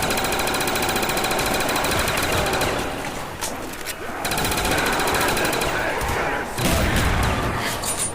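Mustang and Sally pistols firing in the video game Call of Duty Zombies on the Shangri-La map, heard as continuous loud rapid shots and booming bursts mixed with dense game noise, with a brief lull midway.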